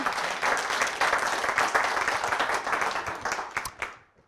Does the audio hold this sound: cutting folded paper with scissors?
no